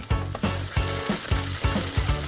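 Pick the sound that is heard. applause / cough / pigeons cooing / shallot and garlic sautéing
shallot and garlic sautéing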